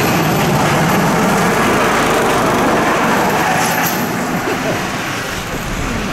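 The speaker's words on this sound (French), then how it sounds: "on commence de bon matin par le Bamboo Train qui est juste ici. Il y en a qui va passer" A bamboo train in Cambodia rolls past with a loud, steady small-engine drone and rattling track noise that fills the whole stretch and eases slightly toward the end.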